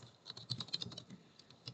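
Rapid keystrokes on a computer keyboard, a quick irregular burst of clicks that slows and thins out toward the end, close and fairly quiet, with no voice.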